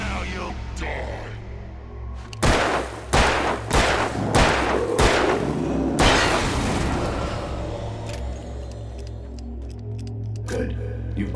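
Several loud gunshots ring out in quick succession in Alan Wake, about five sharp blasts followed by a final heavier shot and a fading tail of ambient sound.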